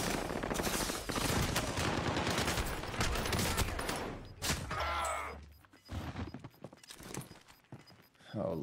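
Gunfire in a Call of Duty match: dense, rapid bursts of shots fill the first half, then break into scattered, quieter volleys. Speech is mixed in throughout.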